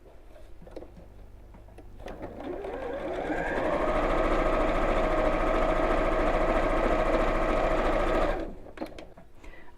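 A sewing machine stitches a child's backpack. It starts slowly, speeds up to a steady fast whirring run for several seconds, then stops, close and clear, with no talking.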